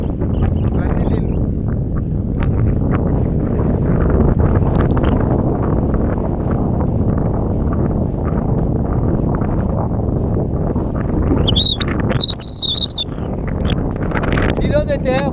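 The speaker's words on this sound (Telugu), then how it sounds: "ఈరోజు గాలి ఎట్టుందంటే మనిషిని కొట్టుకొని పోయేటట్టున్నాను" Strong outdoor wind buffets the microphone in a continuous rough roar beside rainwater pits in a barren, desert-like area, with a few bird chirps rising briefly near the end.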